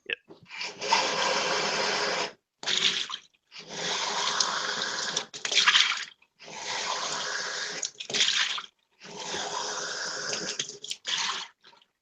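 Water running from a tap into a sink in loud bursts of several seconds each, switched on and off repeatedly with short silent gaps between, close and steady while flowing.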